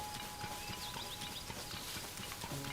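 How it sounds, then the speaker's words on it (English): A horse gallops in Zelda: Tears of the Kingdom after being summoned, its quick clip-clop hoofbeats running steadily over the game's background music. "I just need to summon my horsey."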